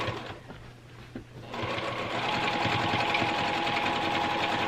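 A sewing machine quilts straight through a fabric quilt, stitching across a cornerstone block; a softer start gives way to a loud, steady motor whir with rapid needle chatter that runs close and continuous for several seconds, with no talk.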